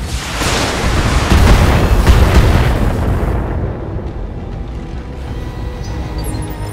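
Enemy vehicle blowing up in the BattleTech mech game, a loud, close, rumbling blast that roars for about three seconds and then fades into a lingering low rumble.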